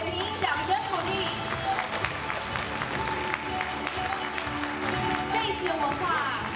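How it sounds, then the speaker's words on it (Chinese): Guests at a Taiwanese architecture award ceremony give steady, dense applause that fills the room, with a voice coming through over the clapping near the end. "请现场我们的贵宾掌声鼓励。"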